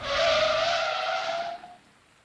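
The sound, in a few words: car brakes skidding, tire squeal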